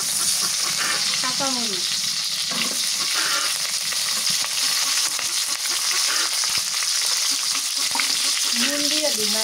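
Crushed garlic and green chilies frying in hot oil for a fish curry with tomato and cauliflower, sizzling and splattering steadily throughout, with someone talking intermittently over the crackle.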